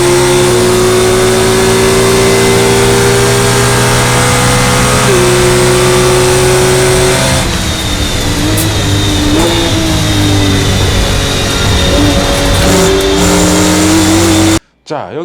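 A Mercedes-AMG GT R and a Porsche GT3 RS accelerate hard down a race-track main straight, their loud engine notes laid over each other, climbing steadily in pitch through several gear changes before cutting off abruptly at the end.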